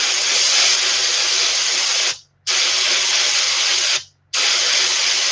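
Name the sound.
spraying sepia paint onto a pike jerkbait lure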